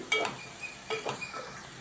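Bitter gourd slices fry in oil with turmeric while being stirred in a pan, giving soft sizzling and a few distinct scraping clinks of a spoon against the metal, close and fairly quiet.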